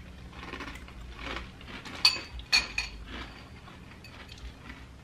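Spoon stirring and scraping cereal in a bowl, with soft repeated clinks of metal on the dish and a few sharper taps near the middle, close and fairly quiet.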